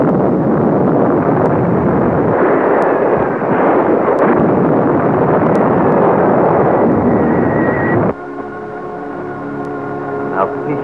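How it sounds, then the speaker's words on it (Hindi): Cannon fire in a classic Pakistani war film: a sustained, loud broadband roar of blasts and rumble that drops off sharply near the end, giving way to quieter sustained tones. "कड़कती तोप की आवाज कहती है अली हैदर"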